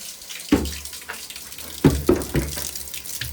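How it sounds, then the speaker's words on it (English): Hot water runs steadily from a household tap into a sink during home cleaning, a continuous splashing rush broken by several louder clunks and knocks, close and without talk. "let's stop wasting the hot water"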